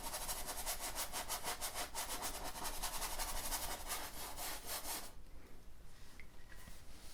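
Paintbrush scrubbing green oil paint onto canvas in a woodland painting, producing a loud, close, continuous rough rubbing with rapid back-and-forth strokes that ease into softer brushing.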